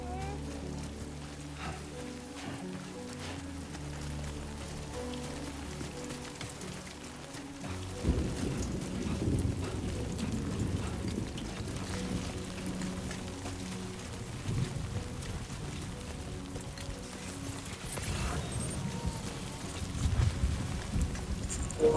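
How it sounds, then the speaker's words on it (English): Steady rain in the video game Death Stranding 2, a constant wash of falling drops that grows heavier and louder partway through, with faint rumbling underneath and no voices over it. "Great. Rain. Gotta move."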